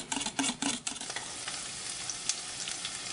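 Olive oil and butter heating in a pan on high heat, a soft steady sizzle with a few louder crackling bursts near the start, fairly faint and close.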